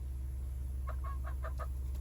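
Chickens cluck in a short run of about five quick, evenly spaced calls over steady low farmyard hum, fairly close and moderately loud.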